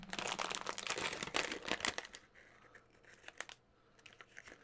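Crinkling foil wrapping being cut and torn open during an unboxing, a loud rustling crackle up close at first, then sparser, quieter crinkles.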